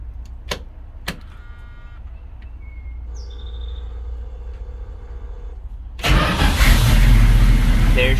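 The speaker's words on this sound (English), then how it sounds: "Let's see if she'll crank." A 1976 Dodge Ramcharger fitted with a new starter relay gives a couple of clicks and a faint hum while birds chirp, then the engine cranks and catches with a loud rumbling idle close by.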